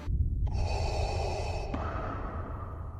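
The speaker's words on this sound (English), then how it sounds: "gives Darth Vader his signature heavy breathing sound" Darth Vader's heavy, rasping mechanical breath from Star Wars, with a long hissing draw and a steady drone underneath, loud and close, with no talking.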